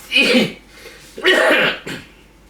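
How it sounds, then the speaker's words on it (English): Two bursts of coughing, close and fairly loud, with a softer trailing cough after a short pause. "You got a cough too."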